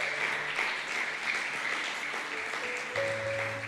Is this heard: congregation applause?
yes